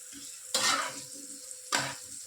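Food frying in a little oil in a pan while cooking jackfruit curry, a quiet sizzle punctuated by two loud bursts of stirring scrapes, with no talking.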